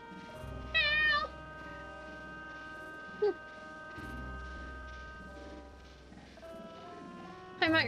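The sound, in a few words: pet cat meowing and purring on lap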